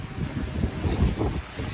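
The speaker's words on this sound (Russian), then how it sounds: "Но сегодня сильно ветер дует." Strong gusts of wind buffet the microphone, a loud low rumbling roar that swells and eases with no voices.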